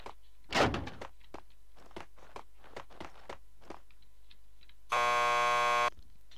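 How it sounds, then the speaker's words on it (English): A door buzzer in Max Payne 2 sounds as a steady, loud electronic buzz lasting about a second near the end, after several thuds and footsteps. "Just press the buzzer by the door, Petersburg will buzz you in."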